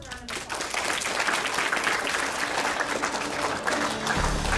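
Audience applauding a student named Alex, honored with a Walmart award for starting a nonprofit, a sustained loud crowd clapping that fills the room, with a voice faintly under it near the end.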